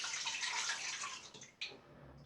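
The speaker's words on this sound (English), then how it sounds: "I'll just give the head, cap and the guard plate a quick rinse." Running water rinses the head, cap and guard plate of a Gillette Goodwill safety razor. A steady hiss of flowing tap water sounds close by, then breaks off and splashes briefly as the parts pass under the stream, with no talking.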